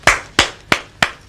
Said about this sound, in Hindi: ताली बजाना जानते हैं?